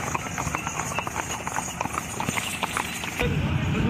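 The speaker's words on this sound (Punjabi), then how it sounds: "ਅੱਗੇ ਚੱਲ ਕੋਈ ਘੋੜੇ ਲੰਘਣੇ ਲੱਗ ਗਏ" Horses passing on a road, hooves clip-clopping in a quick uneven rhythm close by, with voices talking underneath.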